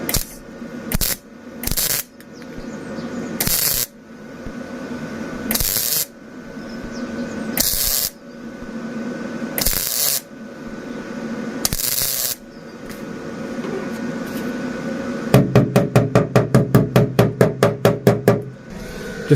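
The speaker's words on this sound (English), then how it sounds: "I'm going to do a timeline and show you guys some welding today." MIG welding on the body of an abandoned Ford Transit campervan: a series of short, sharp crackling tack bursts with quiet gaps between them, ending in a quick run of rapid stitch pulses.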